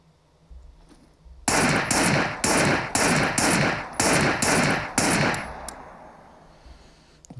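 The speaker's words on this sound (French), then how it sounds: "Alors maintenant on va passer au test de tir" Seven evenly spaced, loud pistol shots from a handgun on a SCUM firing range, each sharp crack followed by a short ringing decay, ending in a fading tail.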